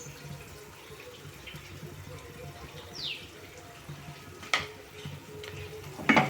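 Softened onions fry in a pan as chili powder is stirred in for village-style egg masala curry, a steady low sizzle with scraping stirs and a couple of sharp clinks, close and quiet, no talk.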